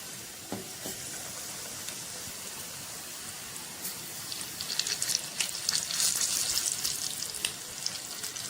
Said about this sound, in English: coat the chili in the batter and fry them